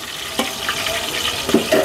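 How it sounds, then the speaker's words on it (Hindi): Garlic, onion, red chillies and green chillies fry in a pan with a soft crackling sizzle and a few sharp pops and stirring clicks, close and brief. "हमारे लहसुन प्याज भी रेड हो चुके हैं और लाल मिर्च और हरी मिर्च भी इसमें बढ़िया से फ्राई हो"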